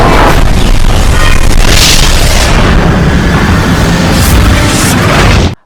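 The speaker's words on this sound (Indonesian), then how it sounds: "Ledakan bom itu menghancurkan seluruh tempat yang ada di sana." A bomb blast from the Resident Evil film, a loud, dense explosion roaring continuously for about five and a half seconds before cutting off abruptly.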